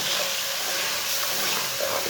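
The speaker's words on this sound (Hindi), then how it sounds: "थोड़ा सा पानी डाल लेंगे।" Water splashes steadily into a pan of fried spices—ground red chilli, turmeric and garam masala—for masoor dal with brinjal, a continuous close wash of pouring that holds level for about two seconds, with no talk.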